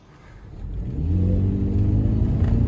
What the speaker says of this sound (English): Just listen to all that horsepower. A real man's vehicle.